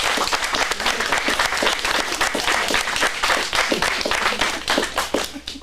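Audience in an acting studio in Phoenix applauding the actors after an adult script showcase, a loud, sustained round of dense clapping throughout.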